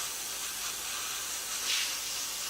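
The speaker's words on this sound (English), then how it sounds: "So you just spray lightly over." Spray paint hissing steadily as a tub is lightly coated, a continuous close airy spray with a slight swell near the end and no talking.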